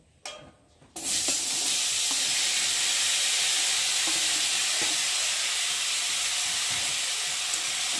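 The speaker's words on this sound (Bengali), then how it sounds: "ওই তেলের মধ্যে আমি সবজিগুলোকে দিয়ে ভালো করে একটু কষিয়ে নেব" Mixed vegetables for Bengali shukto sauté in a little hot oil, a loud steady sizzle and hiss that bursts in after a quiet first second and holds evenly to the end, with faint stirring scrapes.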